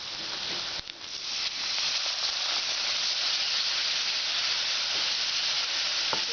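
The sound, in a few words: vinegar added to hot pan sizzling, Kerala lime pickle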